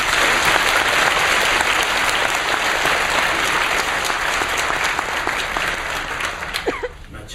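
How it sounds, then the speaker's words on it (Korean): An audience in a church service breaks into sustained applause to welcome a missionary pastor, a dense, loud wash of clapping that holds steady and then thins out near the end. "우리 이재환 선교사님, 목사님 나오실 때 우리 감사하는 마음으로 박수로 환영하겠습니다"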